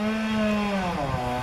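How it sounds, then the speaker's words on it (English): A chainsaw drones steadily at a distance during the felling of a palm tree, a continuous buzzing engine tone with shifting pitch and no talk over it. "you might be able to hear the sound of a chainsaw"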